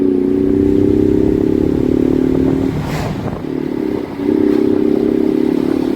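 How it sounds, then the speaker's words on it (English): A 2020 Ford Mustang 55th Anniversary Edition with the 2.3L engine in track mode gives a loud, steady, close engine drone that briefly breaks with a clattering rasp midway before settling back to a sustained hum. "But the sound, to be honest with you, has increased quite a bit in the track mode"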